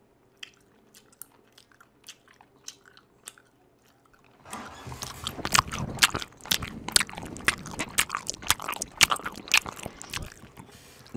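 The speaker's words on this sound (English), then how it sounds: "Chewing a gummy worm really loud for my chats here." A gummy worm is chewed loudly close to the microphone during a livestream, with soft sticky mouth sounds at first, then dense wet squishing and smacking bites for several seconds.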